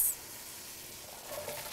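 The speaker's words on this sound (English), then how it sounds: "Should have a light sizzle like that when it hits the pan." Onions hit hot oil in a soup pot for rutabaga carrot ginger soup and give a faint, steady light sizzle, a soft continuous hiss with no talk.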